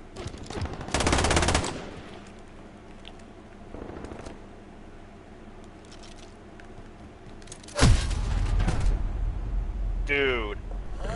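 Gunfire in Call of Duty Modern Warfare: loud automatic bursts near the start and again near the end, with scattered single shots between, over players talking.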